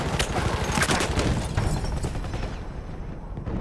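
Gunfire in the video game Battlefield 1, a dense stream of rapid shots with booming impacts running continuously and loudly through the moment.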